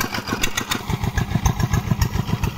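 A Kawamoto water pump engine runs at modest throttle, drawing water from a shallow 4-meter bore, with a steady, close, rapidly pulsing chug and rattle throughout.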